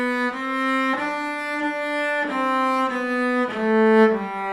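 Cello plays a Beethoven melody in plain even rhythm, separate bowed notes with a warm, steady tone, alone and close.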